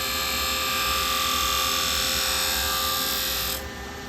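A gouge cutting wood on a lathe gives a steady, loud, buzzing whir with a constant tone that drops slightly in level near the end as the cut eases off.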